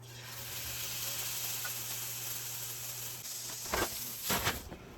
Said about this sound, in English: So let's get to searing.